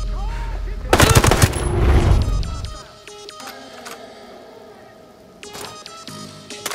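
Rapid automatic gunfire in a video game mission, a dense close burst early then scattered shots and clicks over low game ambience, with another burst near the end.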